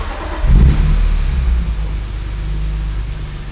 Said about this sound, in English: I'm going to go ahead and start up the car